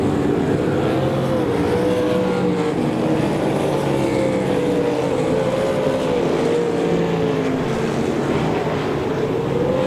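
Race car engine droning steadily down the back straightaway at Devil's Bowl Speedway, a continuous loud roar with a slowly wavering pitch and no talking.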